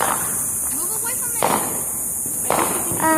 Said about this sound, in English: We're having some technical difficulties with the fireworks.